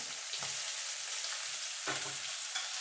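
Chopped medium onion frying in oil with black cumin seeds, a steady close sizzle broken by two louder stirring scrapes, no talk.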